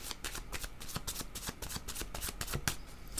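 Cards being shuffled for a tarot reading, a rapid close run of crisp riffling flicks and slaps in an uneven rhythm, with no talking.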